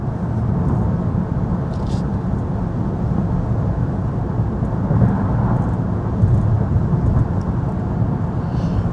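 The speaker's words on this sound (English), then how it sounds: "Let me let you have a listen and hear the road noise." Steady low road rumble inside a moving 2027 Kia Telluride HEV SX, a constant broadband drone with faint tire and wind hiss and no talking.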